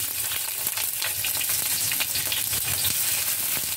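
Onion sautéing in hot cooking oil for corned beef with egg, a dense, continuous crackling sizzle filling the whole moment, close and steady with no voices.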